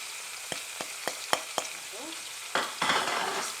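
Lamb and spices go into frying onions in a pan for lamb karahi, and a loud sizzle breaks out after a few sharp taps and some stirring.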